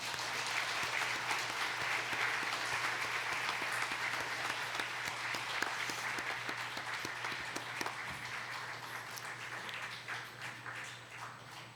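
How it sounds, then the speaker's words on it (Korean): A church congregation in Gimcheon claps during a flower presentation at an anniversary ordination service, a long, steady round of applause that is fairly quiet and slowly thins toward the end, with a low hum underneath. "우리 박수하겠습니다."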